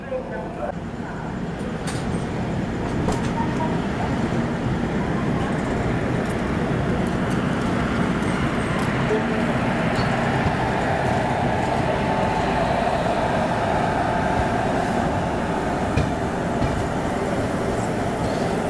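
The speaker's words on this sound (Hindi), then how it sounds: "टुंडला जंक्शन पे प्लेटफॉर्म नंबर 5 से अपनी ट्रेन निकल रही है" A Rajdhani Express hauled by a WAG-7 locomotive pulls out of platform 5 at Tundla Junction with a steady, loud rolling rumble of wheels and carriages, heard up close, with voices in the background.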